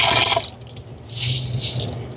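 Raw kiri samba rice swished and rattled by hand in water, producing a busy, close splashing and grainy rustle that fades briefly, then returns in two wet bursts, with no talking.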